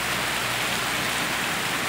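Light afternoon rain falling steadily, a soft even hiss of drops on surfaces close by, continuous with no voices.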